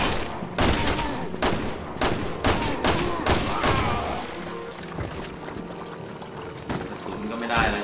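Gunfire bursts out in Resident Evil 6: repeated sharp shots and clattering impacts in the first half, then quieter game sounds, with someone talking throughout.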